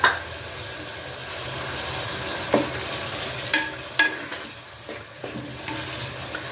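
Two large tomatoes dropped into a simmering ridge gourd and mutton curry, a soft steady sizzle broken by several sharp spoon-on-pan knocks and scraping stirs, close by and without speech.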